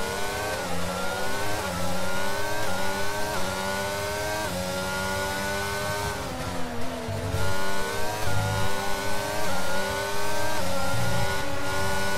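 A McLaren race car engine accelerates out of a corner, loud and close, its pitch climbing repeatedly through gear changes with brief dips between, and no talking.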